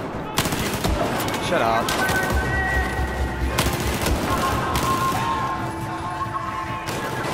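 Sustained, loud machine gun fire in Battlefield 4 during a prison escape mission, with dense rattling bursts, crashes and scattered impacts, and a brief spoken line over the shooting.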